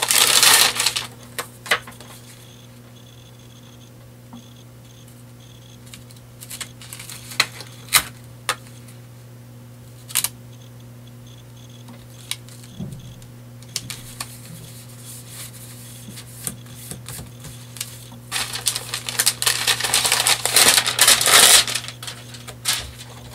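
Score tape peels off and paper pages press onto tags in a papercraft book, giving scattered crinkly rustles and crisp tearing bursts over a steady low hum, louder and denser toward the end.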